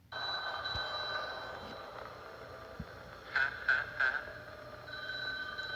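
Three short ringing bursts from a telephone in a horror game video, Welcome Home, heard faintly over a steady background hum with a few soft thumps.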